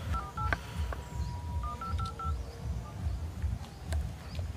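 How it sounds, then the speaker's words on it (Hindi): A phone dialing tone sounds out a quick run of short beeps, clustered near the start and again a moment later, over a low steady outdoor rumble in a jungle with no mechanic nearby. "लगा तो किसी को कॉल यार"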